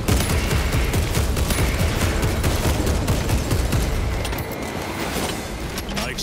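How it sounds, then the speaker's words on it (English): Heavy sustained gunfire roars through a Warhammer 40k Space Marine 2 battle, a dense, loud barrage of overlapping shots that thins slightly toward the end. "Why are we shooting that now?"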